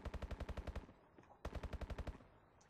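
Automatic gunfire in the video game Call of Duty Advanced Warfare, two rapid bursts of evenly spaced shots, the first about ten rounds, a short gap, then a second similar burst, crisp and close.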